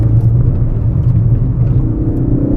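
Ford Focus RS, rated at 257 kilowatts, driven fast on a dirty, slippery road in South Africa, its engine a loud steady in-cabin drone with whirring road rumble, no voices.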